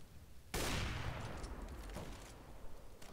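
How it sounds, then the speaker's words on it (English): A sudden burst of video game gunfire from competitive online play cracks out loudly, then trails off into a scattered, decaying rattle of shots. "there's somebody shooting them"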